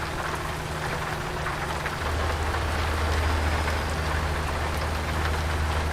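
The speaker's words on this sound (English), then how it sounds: "Although it's dark and raining." Steady rain falls and patters continuously in the video game American Truck Simulator, with a low rumbling hum joining partway through; no voices.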